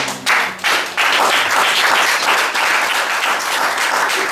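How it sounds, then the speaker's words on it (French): A church congregation at a Sunday service claps and cheers for the Lord, loud sustained applause from a full room, with a sharp opening burst swelling into a steady roar. "Est-ce qu'on peut acclamer pour le Seigneur?"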